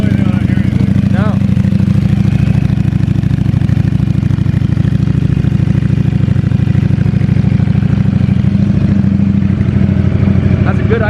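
A 2020 Streetfighter motorcycle with a full Akrapovic exhaust idles at a steady, throbbing burble, close and loud. People talk nearby over the engine.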